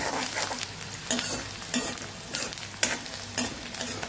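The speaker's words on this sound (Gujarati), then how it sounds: "ડુંગળી અને મરચાં સતળાય છે તો મસ્ત એવી ખુશ્બુ આવે છે" Onions and chilies sizzle and crackle in hot oil as tempering for puffed-rice khichdi, with periodic scraping strokes of a spoon stirring the pan at a steady rhythm.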